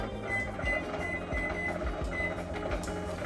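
A kitchen timer chirps in a run of short, evenly spaced high beeps as it is set, over a mechanical whirring and clunking background.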